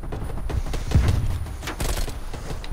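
Call of Duty Cold War gunfire crackles in quick scattered bursts at moderate distance, a steady background of shots with no talking.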